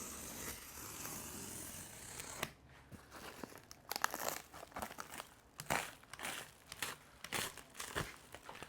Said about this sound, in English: Let's cut him open and see what we got inside the big box.